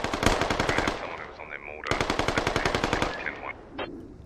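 Automatic gunfire in the tactical shooter game Squad: two long, loud rapid bursts of shots, separated by a brief pause, with faint voice chatter in the gaps.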